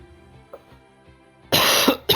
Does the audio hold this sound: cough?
yes